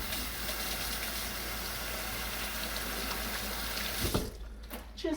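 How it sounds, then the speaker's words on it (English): Hands rinsed under a running kitchen tap while cooking tostadas, a steady close hiss of flowing water that stops near the end, leaving a few faint clinks. "Just wash your hands."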